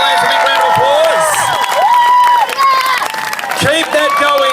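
A crowd at a Fremantle Dockers family fun day cheers and applauds footballer Aaron Sandilands, loud and close, with shouts and whistles mixed into the clapping.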